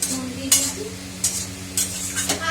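Salted leafy greens sizzle in a pan while a utensil stirs them, giving four or five sharp scraping strokes over a constant close frying hiss.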